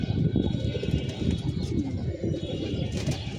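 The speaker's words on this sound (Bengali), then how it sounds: "কবুতরগুলো উড়ে নামুক" Pigeons coo continuously in a low, dense murmur close by, a whole flock sounding together with no break across the clip.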